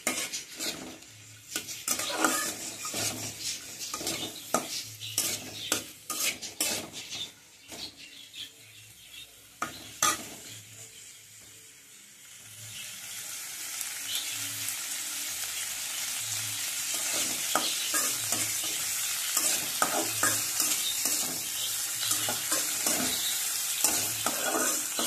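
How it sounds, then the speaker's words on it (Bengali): Onions and garlic sizzle in a hot pan while a utensil stirs and scrapes through them in repeated clinks, the frying hiss swelling steadily louder in the second half, with no voices. "এবারে আমি এইভাবে পেঁয়াজ আর রসুনগুলোকে ভালো করে ভেজে নেব।"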